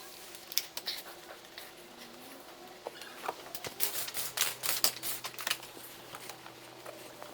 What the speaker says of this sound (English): Before that, I cut the film.